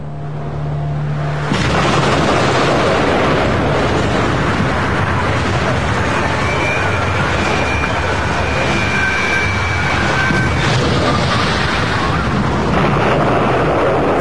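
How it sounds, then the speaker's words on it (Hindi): A loud, sustained roaring rumble of the Fat Man atomic bomb exploding over Nagasaki erupts after a brief quieter start and keeps thundering on like a massive explosion, with no voices. "फैटमैन में विस्फोट हुआ।"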